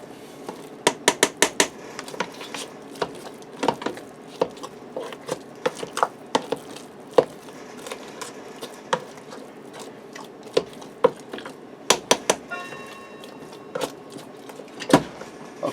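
A spoon scrapes and clanks against a Ninja Foodi pot as baked potato casserole ingredients are stirred, giving irregular sharp knocks and taps over a quiet background, with no one talking.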